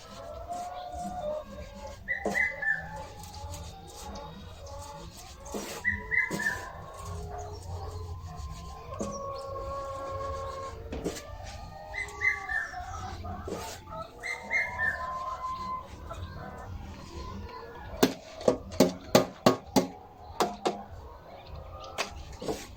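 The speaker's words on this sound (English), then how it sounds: "You can hear how our birds are very hungry, enjoying." Laying hens being fed commercial feed mixed with azolla, with soft clucks, coos and chirps scattered over a low shuffling and rubbing background, close and moderately quiet, with a cluster of sharp pecking taps near the end.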